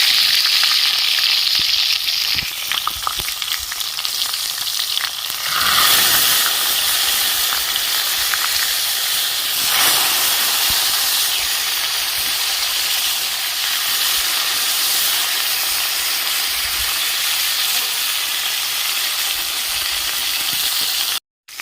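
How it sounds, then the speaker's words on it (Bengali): Fish frying in hot oil in a wok, giving a loud, steady, close sizzle and hiss that runs unbroken throughout with no voices. "কড়াইয়ের তেল গরম হয়ে গেছে আমি এবার ভেজে নেব"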